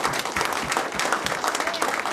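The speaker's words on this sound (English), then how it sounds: "allow me to close this by giving all of you a tremendous applause for being who you all are." A crowd at a state senate campaign gathering claps in sustained applause, a dense, fairly loud patter of many hands that continues evenly without voices.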